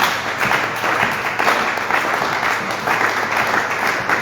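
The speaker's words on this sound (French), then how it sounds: "Acclamons très fort pour le Seigneur." A church congregation applauds loudly and continuously for the Lord, a dense, steady wash of clapping from many hands.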